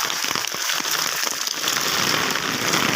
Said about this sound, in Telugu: మా పెంకులన్నీ మస్తు సౌండ్ వస్తున్నాయి, దడ దడ దడ దడ దడ.